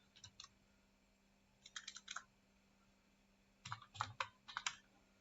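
Fingers type on a computer keyboard in three short bursts of quiet, close key clicks with pauses between them, under a faint steady hum.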